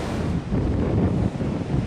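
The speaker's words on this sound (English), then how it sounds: "So I shall leave you with the beach here and the waves" Big ocean waves break on a beach along the NC 500 route in steady loud surf, with a constant wash and heavy wind rumbling on the microphone.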